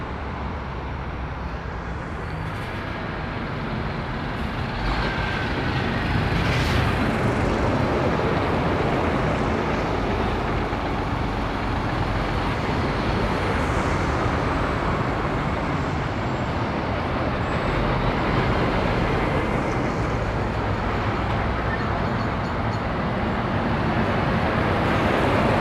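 Trucks rolling past at Lymm Poplar motorway services in Cheshire, a constant roar of heavy road traffic that swells slightly after a few seconds and holds steady at close range, with no speech.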